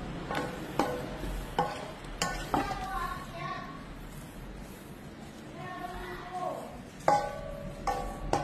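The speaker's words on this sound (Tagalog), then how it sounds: "i-fry natin siya sa butter" Wagyu beef cubes fry in butter in a pan, giving a steady soft sizzle broken by several sharp utensil taps and stirring clinks at irregular intervals.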